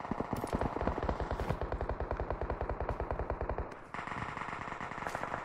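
Rapid automatic gunfire in the mobile battle royale game BGMI, a long loud burst of evenly spaced shots that stops abruptly, followed by a brief crackling tail and a few more shots.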